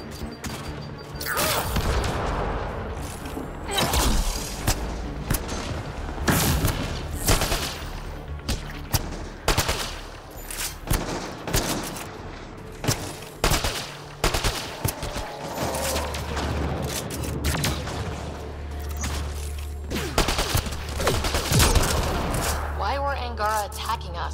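Sniper rifle fire in Mass Effect: Andromeda, with repeated loud, sharp shots in irregular bursts over a low droning hum and clanking mechanical effects.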